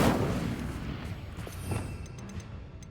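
Confringo blasting spell explosions in the video game Hogwarts Legacy: a heavy booming burst at the start, then a rumbling, crackling tail with scattered smaller impacts.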